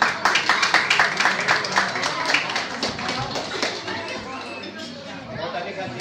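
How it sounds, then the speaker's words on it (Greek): Warm applause from an audience at a Greek New Year's pita-cutting event, dense rapid clapping with chatter mixed in, steady and fairly loud before thinning slightly toward the end. "Ένα θερμό χειροκρότημα στον κύριο Χαλιαμαός."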